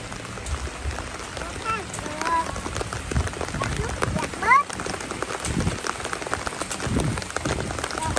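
Steady rain patters on a surface, with a few brief chirps and muffled voices underneath.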